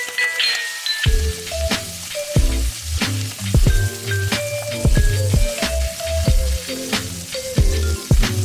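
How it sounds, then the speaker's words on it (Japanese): Salmon sears in melted butter in a pan, a steady close sizzle and crackle with frequent sharp pops and spatters throughout, no voices over it. "お鍋にバターを溶かして鮭の両面に焼き色をつけていきます。"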